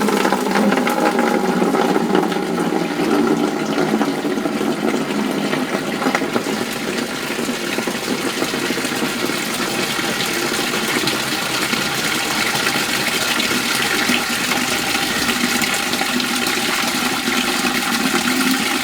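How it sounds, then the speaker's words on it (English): Clean water flushes through the top and bottom pans of a maple syrup evaporator, a loud, continuous gurgling rush with a low mechanical hum beneath it, steady throughout with no talking. "we're putting clean water in the top pan and then flushing it through to the bottom"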